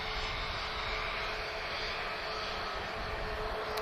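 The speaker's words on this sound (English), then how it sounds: "it's an A320neo, also the Lufthansa one" A Lufthansa Airbus A320neo at Lisbon Airport gives off a steady broadband engine roar, moderately distant and unbroken throughout.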